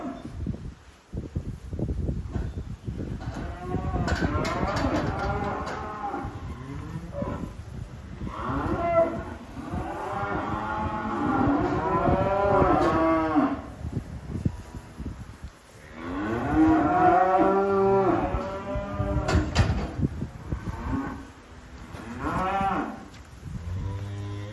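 Spring cows bawl and moo repeatedly over silage in a farm shed, overlapping loud close calls with brief pauses between bursts, and no talking.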